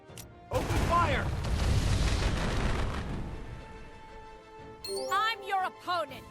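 Ship cannons fire in a naval battle in Uncharted Waters Origin, a dense barrage of heavy booms and rumbling blasts rolling on for several seconds, then game voice shouts over fading rumble.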